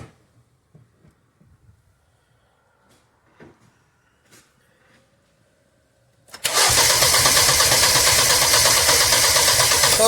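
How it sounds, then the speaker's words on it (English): A Mini Cooper S with a faulty high-pressure fuel pump cranks without starting: a few quiet knocks and clicks, then a sudden loud, steady rhythmic churning of the starter turning the engine over, running on without the engine catching. "Could you just crank that for me,"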